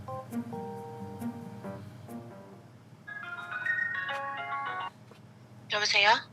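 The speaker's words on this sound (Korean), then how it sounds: "정윤 여보한테 이제 전화해서 내려오라고 하면 될 것 같습니다." A telephone rings while a call is placed to a wife waiting at home, its tonal ringtone repeating in bursts after earlier talk and music, clear but moderate in level.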